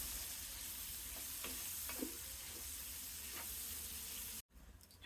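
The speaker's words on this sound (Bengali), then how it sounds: "আমি হালকা বাদামি করে ভেজে নেব।" Chopped onions with whole cumin seeds and two bay leaves fry quietly in a pan, giving a soft, steady sizzle with a few faint stirring clicks before it cuts off near the end.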